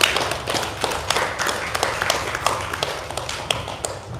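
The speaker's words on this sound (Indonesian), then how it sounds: "Dan kita boleh tepuk tangan sama-sama." An audience of women clapping together at a gathering, a dense run of quick hand claps held at an even level throughout, fairly close, with no voices over it.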